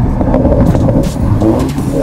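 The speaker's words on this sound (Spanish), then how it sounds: "Con los escapes Akrapovic, ahora el Cupra Ateca tiene un sonido más acorde con su carácter" Cupra Ateca Limited Edition SUV fitted with an Akrapovic exhaust, a loud, steady engine drone with throttle swells and brief pops as it revs, heard close and alone without voices.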